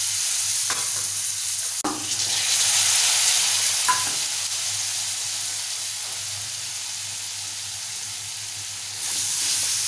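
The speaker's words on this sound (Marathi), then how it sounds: "आता आपण भाज्या घालूया। शेवगाच्या शेंगा घालूया।" Drumstick pods and potatoes with other vegetables sautéing in oil for a Malvani-style bhaji, a loud, steady hissing sizzle that swells after the vegetables go in, with a few stirring knocks and no talking.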